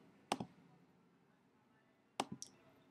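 Computer mouse clicks while working in Excel: two crisp, close clicks about two seconds apart, the second followed by a faint lighter tick, over near silence.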